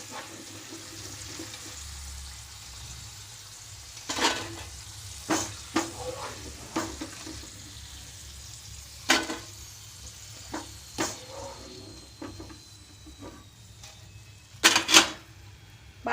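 Papaya fries deep-fry in hot oil under a steady, low sizzle, while a slotted spoon knocks and scrapes the pan in scattered, close clatters and lifts the fries out.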